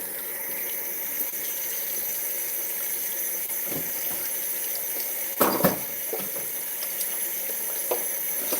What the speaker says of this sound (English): these potatoes are going to have to be washed